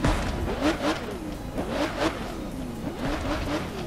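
The Aston Martin Vulcan in the racing game The Crew 2 is revved several times in a row, each rising engine howl peaking and falling back, loud and close with no talking over it.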